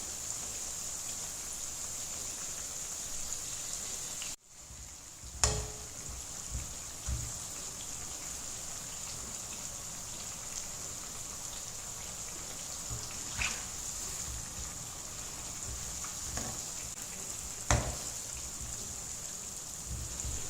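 Continuous hissing sizzle of chandrakala sweets deep-frying in oil over low heat, steady and close, with a few faint clinks and bumps scattered through it.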